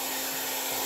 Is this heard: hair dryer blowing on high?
yes